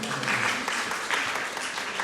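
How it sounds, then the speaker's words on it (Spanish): A church congregation claps together for the sound technician during a Sunday sermon, a dense, steady round of applause filling the room with a few voices mixed in. "Un aplauso para el sonidista, por favor"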